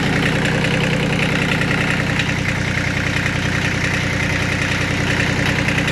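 A Kubota B8200E compact tractor's engine idles after a cold start, a steady, close, mid-to-low rumble with a constant knocking pulse throughout and no talk.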